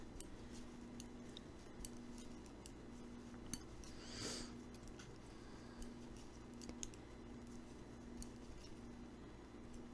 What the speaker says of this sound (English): I shall snip my tails so we don't have to worry about those later on